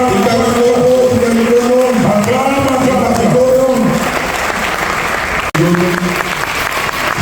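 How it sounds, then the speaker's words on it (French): A church congregation at a pastor's consecration service breaks into loud, sustained clapping, with cheering voices and tuneful singing mixed through the applause. "Acclame."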